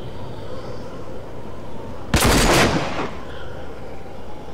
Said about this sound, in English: I think they're shooting at other critters